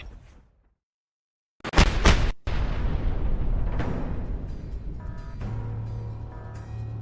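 A video game explosion bursts loud and sudden after a near-silent pause, then a second blast follows. A long, rumbling debris wash trails off behind it, and a faint tonal hum rises near the end.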